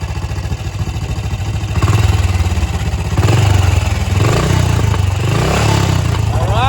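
A BSA 441 single-cylinder motorcycle engine idles with a little throttle held open, a steady loud thumping chug close by that swells slightly in pitch and volume as it is blipped.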